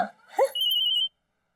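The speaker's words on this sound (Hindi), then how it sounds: "अरे फोन आ रहा है भाभी का।" A telephone rings indoors in a short, bright electronic trill lasting about half a second, heard close after a brief faint voice, then silence.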